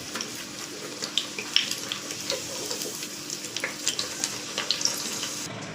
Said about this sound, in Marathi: अशा मी पुऱ्या तळून घेतल्या